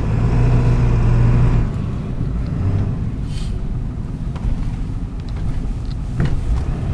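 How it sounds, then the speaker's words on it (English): A 2003 Ford F-250 Lariat crew cab FX4 with a 7.3 turbo diesel drives on snow in four-wheel drive, a loud steady low engine drone from inside the cab that eases after a moment, with bumps and rattles. "So we're in four-wheel drive right now,"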